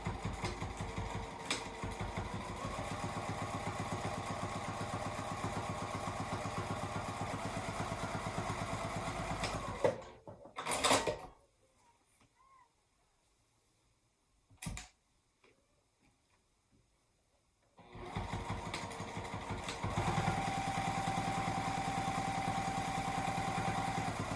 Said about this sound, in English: So I'm going to go ahead and stitch down those 2 lines to divide that pocket in thirds.